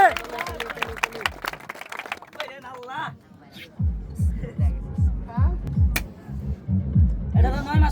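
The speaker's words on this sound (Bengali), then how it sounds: "আরেকটা তালি মারে" A street circus crowd claps in a steady, loud rhythm with a low thumping beat after an opening stretch of excited voices over a busy outdoor background.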